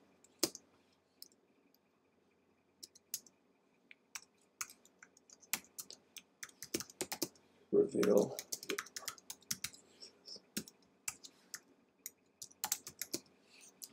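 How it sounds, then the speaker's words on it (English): Rapid typing on a computer keyboard, a scatter of sharp clicks with irregular bursts, close by; a brief spoken word breaks in midway. "I am so bad at typing."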